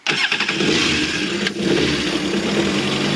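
A 2013 Kawasaki STX 15F jet ski engine, run out of the water, sputters to life and runs at a steady, loud idle close by, with a brief dip partway through.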